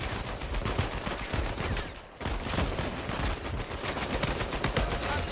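Sustained gunfire in an Uncharted 4 multiplayer match, sniper rifle shots mixed with a dense, continuous fusillade of rapid cracks that fills the whole stretch, briefly dropping out once before resuming loud and close.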